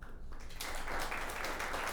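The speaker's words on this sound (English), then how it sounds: "Give them a huge round of applause." An indoor conference audience claps for panel speakers at a high-performance building event, a fairly quiet burst of applause that starts softly and builds into steady clapping.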